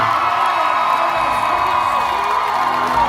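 A theme park crowd at an outdoor Hollywood Studios show cheers and screams continuously, a dense wall of voices holding steady throughout.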